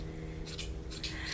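Scissors snip in a few short bursts over a steady low hum, close by and fairly quiet, with the blades rasping through dense alpaca fleece during hand shearing.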